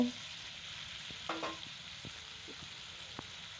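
Fish roe goes into potatoes frying in oil: a faint, steady sizzle with a few soft scrapes and taps of stirring, and no talk.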